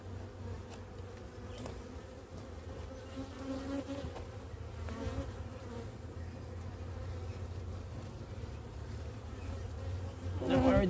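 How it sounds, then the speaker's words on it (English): Honeybees buzz in a steady, moderately close drone as they fly off a hive box lifted during a spring hive inspection, with a few soft knocks and no talking. "the bees that are coming off with it, they're just flying away"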